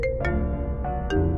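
An incoming phone call's ringtone sounds in a Hindi crime drama, a loud electronic melody of bright repeating tones that plays steadily close by with no voices over it.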